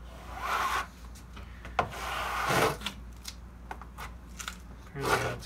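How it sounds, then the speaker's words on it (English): A scraper is dragged through paint on a canvas in several quiet, close rasping strokes, with soft scuffs and small taps between the passes. "we're just gonna to pull this scraper all the way through"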